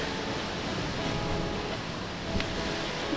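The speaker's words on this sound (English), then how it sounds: "It's really windy." Steady wind roaring across the microphone with a broad, constant rush, like gusts at an open beach, and a brief louder gust near the end.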